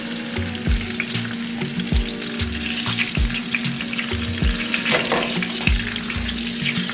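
Butter sizzles and fries over a steak in a pot, a steady loud crackling hiss with frequent bursts of spatter and a few light clinks, continuous throughout with no talk.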